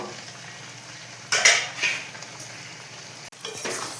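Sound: sautéing mutton curry in a pan

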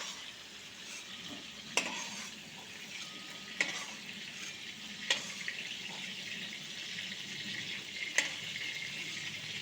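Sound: prawns frying in oil

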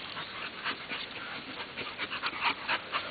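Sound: caged dog panting and whimpering

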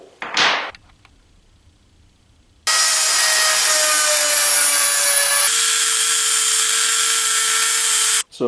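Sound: grinding rifling button grooves with a Dremel tool

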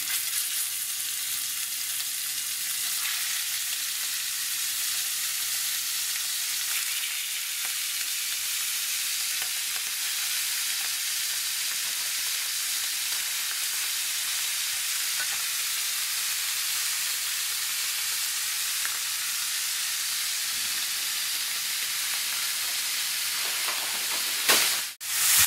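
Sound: beef roulades frying in hot clarified butter

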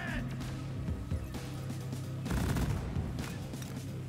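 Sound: sentry turrets firing in Deep Rock Galactic video game

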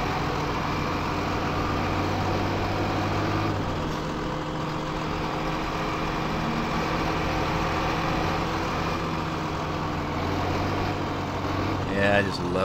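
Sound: truck engine running in the video game Farming Simulator 2015

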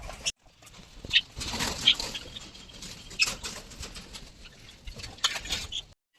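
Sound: pet birds fluttering in cage

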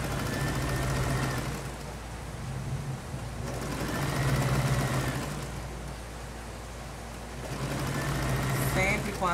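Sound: sewing machine stitching bias binding onto fabric

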